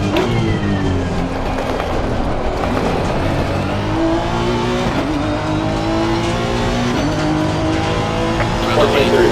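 Honda NSX GT3 race car lapping COTA in Assetto Corsa Competizione, engine droning loudly and continuously with rising and falling revs through gear changes, tires squealing at times, with a voice talking over it.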